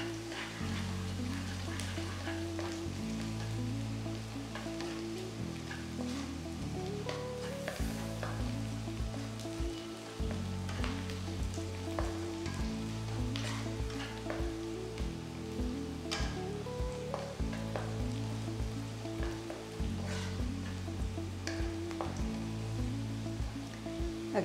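Onions frying with crushed garlic and ginger for a kofta curry, a soft continuous sizzle like light rain running for a long stretch, fairly faint and steady, with background music throughout and no talk.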